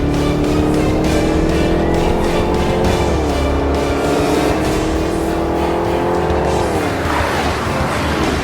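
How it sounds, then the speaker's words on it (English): A fast four-door electric car drives at speed, with a sustained whining tone that rises and dips and a bit of tire squeal, loud and close, with no talking. "It's tested by Road and Track and Motor Trend and others as the fastest 4-door"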